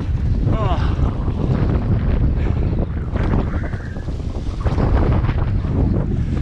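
Strong 20-knot wind buffets the microphone on open water during stormy stand-up paddleboarding with a SUP sail, a loud, steady roar with gusting rumble and faint splashing of water throughout.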